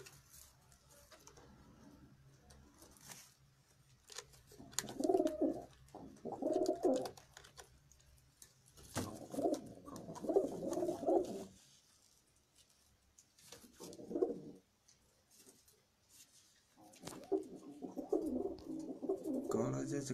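Breeder pigeons of Indian kabootar stock coo in repeated low bursts, several close phrases with short pauses between them, while people talk intermittently nearby.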